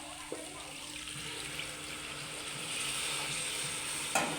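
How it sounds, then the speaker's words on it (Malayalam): Hot water is poured into a sizzling pan of chicken feet curry, setting off a steady frying hiss that swells slightly, with a faint clink near the end. "ചൂടാക്കി വെച്ചേക്കുന്ന കുറച്ച് വെള്ളം ഒഴിച്ചു കൊടുക്കാം"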